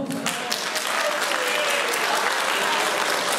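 Wedding guests applaud the best man at a reception, a brisk, continuous round of clapping from a close crowd that stays level throughout.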